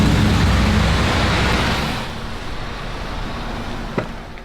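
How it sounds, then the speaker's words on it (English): Busy city road traffic rumbles loudly at first, then eases to a steadier wash of passing vehicles with a brief sharp knock near the end. "I don't want to be stepping out into the crazy traffic."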